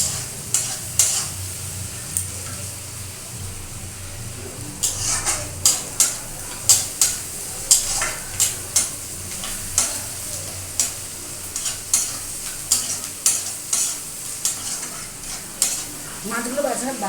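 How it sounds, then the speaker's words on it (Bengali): Large prawns sizzle in a hot pan, lightly fried until reddish, with a steady hiss broken by a regular series of sharp scraping stirs throughout. "একটু হালকা লাল করে না ভাজলে সেন্টটা ভালো ওঠে না"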